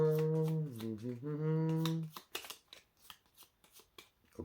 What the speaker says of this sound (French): Effectivement, le jeu est mélangé.